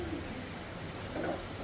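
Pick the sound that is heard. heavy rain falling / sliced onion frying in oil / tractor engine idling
heavy rain falling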